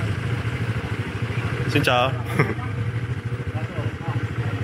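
A motorcycle engine idles and chugs close by with a steady pulsing throb on a rural road near Dalat, Vietnam, while someone speaks briefly over it.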